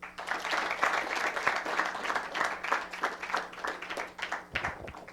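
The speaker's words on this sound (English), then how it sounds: "would you give Governor Markell and Mr. Anderson, Mr. Humphreys, and everyone that made this happen another round of applause?" A crowd applauds, steady clapping from many hands rolling on for several seconds at a moderate distance.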